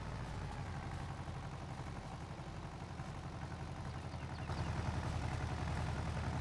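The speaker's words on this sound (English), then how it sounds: "Kind of a loud little tractor. I don't know how loud it is on the video, but it's loud right there." In Farming Simulator 22, a small tractor engine idles loudly and steadily, with a dense low rumble that holds constant and rises slightly in level near the end.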